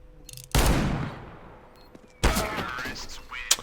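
Revolver gunshots in a competitive shooter video game, two loud sharp blasts about two seconds apart, each trailing off in a long echoing decay, followed by a smaller crack.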